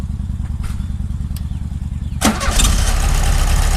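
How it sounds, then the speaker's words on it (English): A small air-cooled motorcycle engine idles with a steady low putter, then kicks up into a louder, rougher rev partway through and keeps running strongly close by. "Dad's playing with the motorcycle down there."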